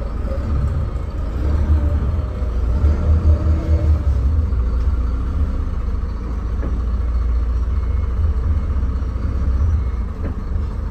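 A Hino AK 240 Euro 4 economy bus engine rumbles while the bus reverses, a loud, steady low-pitched drone heard close up with no talk over it.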